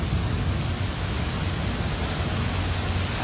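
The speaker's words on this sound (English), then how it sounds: "hear the thunder?" Heavy rain pours steadily during an outdoor storm, a dense close hiss with low rumbling underneath that may be distant thunder, with no voices.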